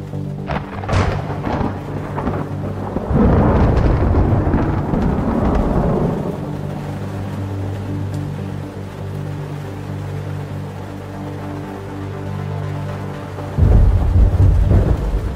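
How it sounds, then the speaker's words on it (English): A thunderstorm rolls through with loud, deep booms of thunder over a steady wash of rain, swelling in the middle and returning with a heavy rumble near the end. "Sometimes, the storm hits a little faster than anticipated."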